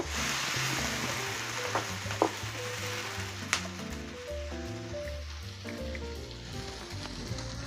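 Green beans frying in oil in a pan give a steady, close sizzle with occasional stirring clatter, for pasta with fresh kale juice; no voices.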